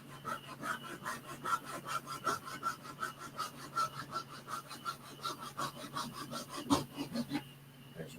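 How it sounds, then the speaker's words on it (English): A tiny micro hacksaw cutting small pieces, quick rhythmic back-and-forth rasping strokes, close and steady for several seconds before stopping near the end. "I got this little teeny micro hacksaw for this very job"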